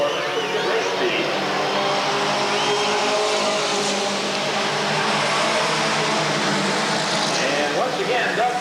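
Race cars circle a dirt oval raceway with a continuous loud engine roar that swells and fades as they lap, dense and steady, with a commentator talking over the noise throughout.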